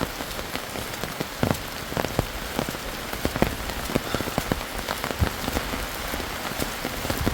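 Steady rain falls on the forest of Parambikulam Tiger Reserve, a dense, even hiss of drops with scattered sharper close taps striking surfaces throughout. No one speaks.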